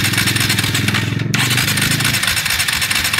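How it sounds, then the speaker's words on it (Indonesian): A Kawasaki W175SE motorcycle being cranked with the electric starter while its ignition fault is checked, a loud close rapid mechanical chatter that continues for several seconds. "coba kita starter dulu apakah pulsar mengeluarkan sinyal atau tidak"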